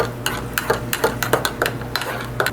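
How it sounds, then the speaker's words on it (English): A spoon stirs cocoa in a pot, scraping and clinking against the metal in quick repeated strokes over a steady low hum. It is close and moderately loud, with no talking. "Okay, in goes my cocoa. And we go mixy, mixy,"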